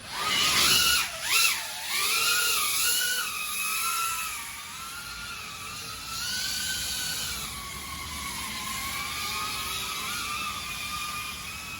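An FPV cinewhoop drone carrying a GoPro Hero 8 rips around a backyard, its close, whining propeller buzz sliding up and down in pitch as the throttle changes, heard on its own with no talking.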